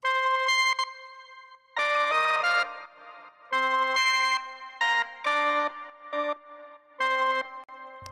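Three layered synth parts from a future bass remix playing together, a bright, choppy melodic sequence of stabbing notes with short gaps, loud and alone.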